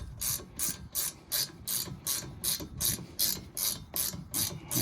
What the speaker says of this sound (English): And I'm using 7mm Allen wrench.